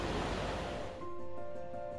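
Water gushes from a karst spring in the Tatra mountains, a near, rushing roar for the first second that fades into quieter flowing water with faint tonal sounds laid over it.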